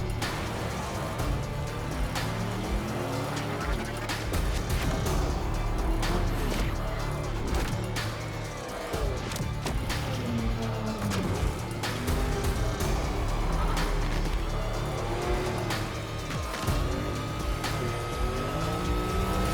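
Formula 1 style race car on the Abu Dhabi circuit, heard from on board as a loud, steady engine roar with rising and falling pitch through acceleration, continuous for about twenty seconds with no talking.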